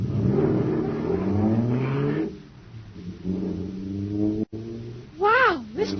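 Radio sound effect of a supercharged jet car engine revving, a droning, wavering roar with rising and falling whine, heard under and between dramatic talk in an old radio serial.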